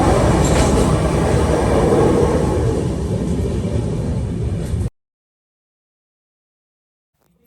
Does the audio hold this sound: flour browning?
no